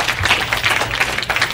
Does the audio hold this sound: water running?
no